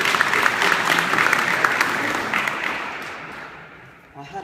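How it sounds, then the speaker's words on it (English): An audience at a student speech bursts into loud, sustained cheering and clapping that gradually fades toward the end. "Big cheer."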